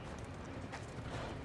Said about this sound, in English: Horse, come here.